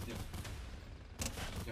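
Gunfire in a shooting video game, with a couple of quick bursts of shots at the start and again near the end under a steady background of game noise.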